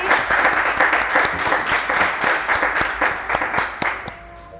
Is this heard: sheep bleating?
no